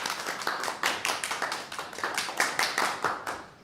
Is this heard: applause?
yes